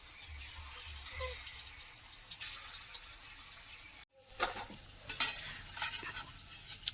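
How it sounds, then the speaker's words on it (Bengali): Food fries in a pan at home during cooking with green banana, a faint steady sizzle broken by occasional stirring scrapes, with no talk. "এখনো ভাজা চলছে।"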